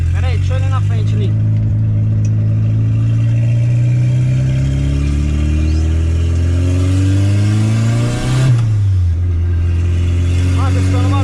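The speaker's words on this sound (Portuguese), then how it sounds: "tô escutando barulho do motor" VW Gol turbo engine making a suspicious noise: a loud, close engine hum rises steadily in pitch as it revs up, dips briefly, then settles again, with someone talking over it.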